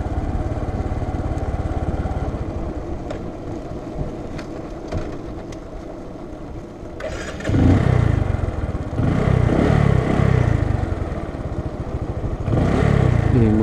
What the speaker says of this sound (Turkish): Motor çalışıyor.